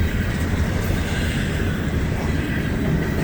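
An intermodal freight train loaded with trailers rolls past in a steady, loud rumble of wheels and rail noise, close by and continuous, with no voices.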